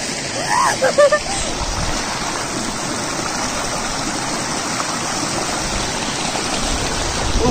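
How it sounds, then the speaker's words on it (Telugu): Rain falls in a hill setting on a Shimla trip, a steady, close rushing hiss under a few brief vocal sounds near the start, continuing unbroken and swelling slightly at the end. "వాటర్ వాన పడుతుంది."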